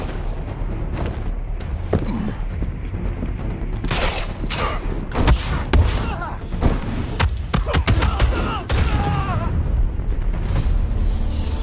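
Dense gunfire bursts and booming impacts in the VR game Batman: Arkham Shadow on Meta Quest 3S, loud and continuous, with sharp repeated shots layered over rumbling game ambience and shouting voices.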